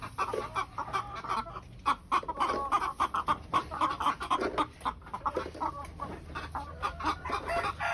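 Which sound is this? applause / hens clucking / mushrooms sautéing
hens clucking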